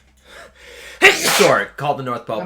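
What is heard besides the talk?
sneeze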